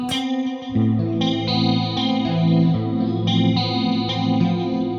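Electric guitar chord ringing out clean through a chorus effect, its shimmering, wavering tone sustained as arpeggiated notes follow one another.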